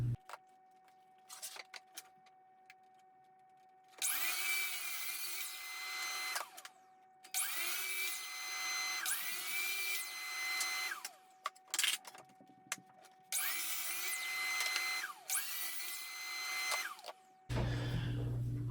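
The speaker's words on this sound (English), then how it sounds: "to minimize my cuts at the miter saw, what I'm doing is cutting pieces to the same length" Miter saw cutting wood pieces to the same length for recessed panel wainscoting, with four loud bursts of whining blade noise, each lasting about two seconds, separated by quieter gaps with small knocks and clicks.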